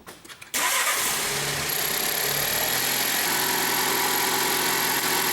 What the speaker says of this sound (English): we're going to start the car back up